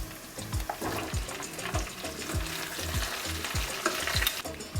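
Potatoes added to a pan of fried onions, ginger, garlic and green chilies sizzle steadily up close, while a spatula scrapes and stirs in a regular rhythm of repeated strokes, with no speech.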